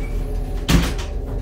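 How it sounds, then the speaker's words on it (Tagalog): A cabin door aboard a general cargo ship is pulled open, giving a single close, solid thud and latch clunk with a brief rush of air, heard over low steady shipboard hum. "Pagbukas natin sa pinto na to."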